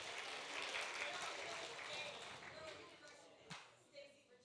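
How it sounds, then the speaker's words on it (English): Congregation applauding in a church service, a broad wash of clapping that starts full and gradually thins out, with a few voices mixed in. "you ought to just give your neighbor a big applause for that."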